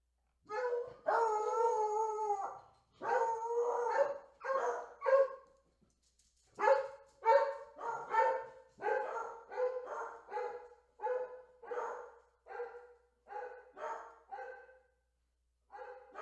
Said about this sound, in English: Freaking dogs.